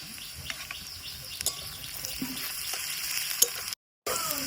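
Onions with garlic paste frying in a pan, a soft crackling sizzle with scattered small pops and light stirring clicks, steady and close, broken by a brief dropout near the end.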